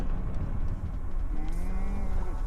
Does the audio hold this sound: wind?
no